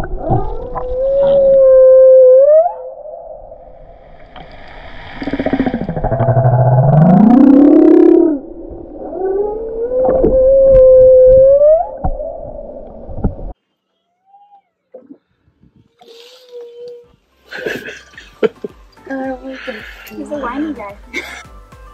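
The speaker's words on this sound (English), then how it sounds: "The whale was so vocal underwater that we even heard the sounds above water in the boat." Humpback whale calls carry up through the hull of a dive boat off Cabo Pulmo, Baja Mexico: long rising and falling moans and howl-like tones, loud and sustained for several seconds each, before quieter clicks and scattered noise.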